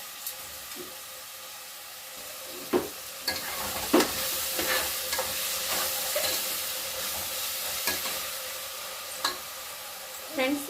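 Tomatoes being stirred with salt in a pan while making egg biryani: a steady sizzle and hiss with scattered scraping clicks of the spoon, close and moderately loud, no talking.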